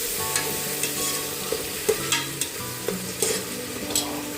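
Onions and tomato sautéing in a pan, a close frying sizzle punctuated by regular scraping and clinking strokes of a spoon stirring the mix.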